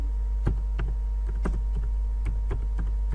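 Keys on a computer keyboard are typed while entering text for a blog, producing sparse, close clicking taps at an irregular pace over a constant low electrical hum.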